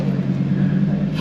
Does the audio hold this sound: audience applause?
no